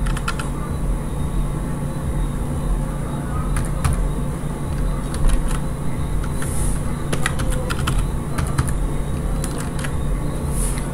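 A password is typed on a computer keyboard while a LiteBeam Gen2 radio is being configured: scattered, irregular key clicks sound close over a steady background noise.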